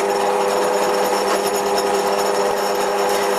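Lathe drilling into a workpiece for a tapered tap follower, producing a steady, loud mechanical whir with a continuous rattling buzz throughout, close by and without talk.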